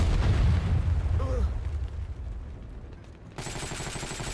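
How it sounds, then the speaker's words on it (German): Hand grenade explosion in the Heroes & Generals shooter game: a loud booming blast at the start over a dense rumble of gunfire, fading into a quieter battlefield bed while a voice talks nearby. "Nein! Handgranate!"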